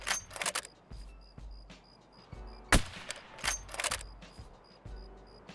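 Video game gunshots from a hunting game set in woods: several sharp, loud shots at irregular intervals, some close together, each ending in a short echoing tail, with faint clicks and mechanical handling noises between them.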